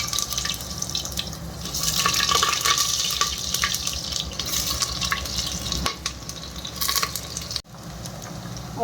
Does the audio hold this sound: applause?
no